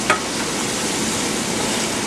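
Egg curry masala with onion and garlic sizzles steadily in a pan over medium flame, a close, even hiss of frying with a faint clink at the start.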